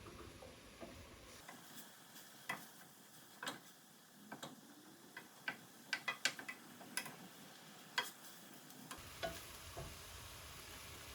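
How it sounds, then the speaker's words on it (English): Minced meat browning in a frying pan for a lentil Bolognese, a quiet sizzle broken by scattered ticks and scrapes of stirring, close and faint. "So you can see our meat is slowly getting browned off there"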